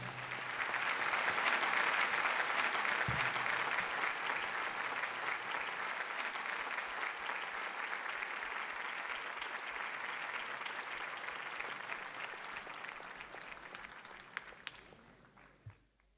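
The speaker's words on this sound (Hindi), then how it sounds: "जोरदार तालियों की गड़गड़ाहट के बीच जनाब वसीम बरेलवी साहब के इस्तकबाल आप करें" An audience at a mushaira poetry gathering in Dubai applauds in a dense, sustained wave of clapping that stays strong for many seconds and then fades away at the end.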